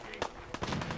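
Gunfire in Fallout 4 during a headshot: two sharp, loud shots about a third of a second apart, the first near the start and the second around the middle, over a busy game soundscape.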